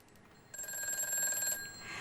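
A telephone rings once on a studio call-in line as a viewer's call connects on a Korean stock-trading broadcast, a bright electronic trill lasting about a second over a quiet room.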